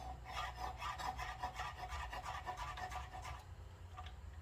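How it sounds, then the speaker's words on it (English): A knife julienning vegetables into strips on a board, a rapid, even series of close, crisp slicing strokes for about three and a half seconds before stopping, no talk. "I'm gonna julienne these as well."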